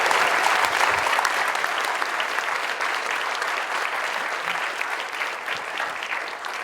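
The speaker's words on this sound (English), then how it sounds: "I like coming up right at the end because everybody's clapping" A seated audience applauds at the close of a sports-and-media ethics panel, a dense, steady wash of many hands clapping that carries on alone for several seconds and slowly tapers.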